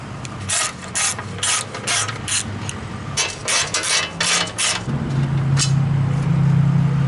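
Ratchet wrench loosening 13mm bolts on a protective plate under a Hummer H3, with rapid clicking bursts in repeated strokes, close and clear, ending in a steadier low mechanical hum.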